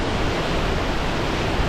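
Waterfall dropping about 100 meters in a single fall into Gaping Gill cave on Ingleborough, England, giving a steady, dense roar of falling water with no breaks and no voices.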